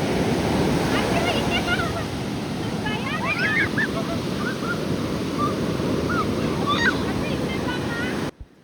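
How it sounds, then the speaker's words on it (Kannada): Sea waves break on a beach at Mangalore with a continuous loud roar and wind buffeting the microphone. Faint bird calls rise above the surf before the sound cuts out abruptly. "ಅಲೆಗಳ ಶಬ್ದ, ಆ ಫೋರ್ಸು ಅದೆಲ್ಲ ನನಗೆ ಭಯ ಆಗ್ತಾಯಿತ್ತು"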